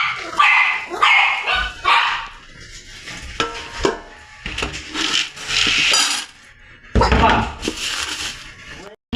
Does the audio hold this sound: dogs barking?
yes